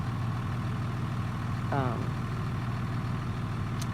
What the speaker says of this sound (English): Truck noise.